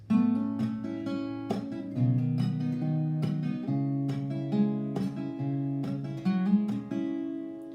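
Strummed acoustic guitar chords move through a progression, with crisp strums and ringing notes in a relaxed rhythm, played solo and close.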